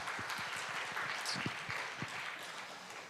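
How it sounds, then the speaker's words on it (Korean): A church congregation at a Korean Saturday worship service gives a round of applause, a soft, fairly distant wash of clapping with a few louder thumps, at low volume throughout. "우리 영광의 박수 한번 올려드리겠습니다."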